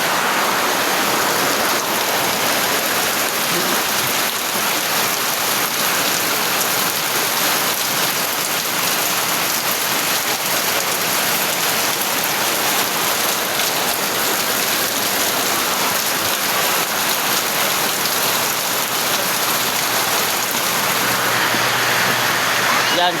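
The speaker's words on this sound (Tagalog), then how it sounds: "ang lakas ng ulan, madinig nyo ang lakas sa bubong." Heavy rain from approaching Typhoon Uwan drumming steadily on a roof, a dense, even hiss of countless drops that never lets up, close and loud.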